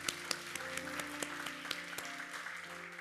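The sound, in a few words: congregation applauding in thanks to God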